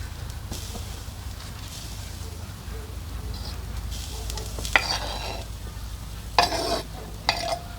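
Steady soft sizzling of sausages frying over an outdoor campfire, with occasional sharper crackles and clinks over a low constant background.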